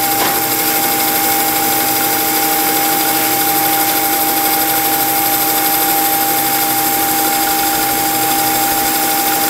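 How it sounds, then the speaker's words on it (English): A metal lathe feeds across to cut an outside-diameter taper with a chamfer, a loud, steady machine whine with a sustained tonal hum and constant mechanical noise, no talk. "Now it's indexing across to do an OD cut."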